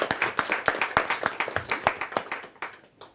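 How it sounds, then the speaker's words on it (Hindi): A small audience at a Hindi poetry recital claps to welcome a poet, a few quick, distinct claps in a fairly even rhythm that thin out and stop after about three seconds. "जोरदार तालियों के साथ हम उनका स्वागत करें।"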